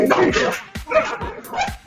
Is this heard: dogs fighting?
yes